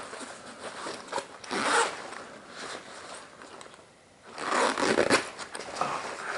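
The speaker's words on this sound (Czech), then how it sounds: "Zipy fungují" A SwissGear SA8112 backpack zipper is pulled open and shut in several quick, close rasping strokes with a short pause in the middle, no voices.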